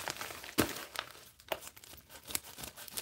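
A cardboard package being cut open, heard as crinkling and tearing, with sharp rips and scrapes arriving in irregular bursts.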